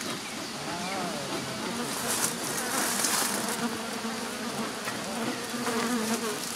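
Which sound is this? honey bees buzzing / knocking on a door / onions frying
honey bees buzzing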